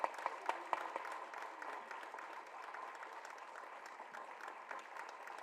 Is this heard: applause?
yes